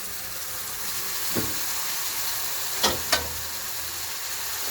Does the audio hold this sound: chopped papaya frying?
yes